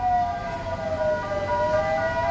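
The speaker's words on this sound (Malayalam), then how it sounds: "ഇതാ ആംബുലൻസ് വന്നുകൊണ്ട് പോയിക്കൊണ്ട്" An ambulance at a road accident scene where a KSRTC bus hit an auto-rickshaw in Talapady sounds its siren in a sustained, slowly gliding wail, fairly loud over a low traffic rumble.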